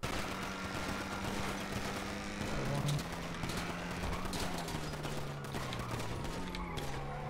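Rapid bursts of gunfire crackle through a video game roleplay shootout in which police fire on a fleeing car. Sustained popping shots run under a steady engine drone, with voices talking over the shooting.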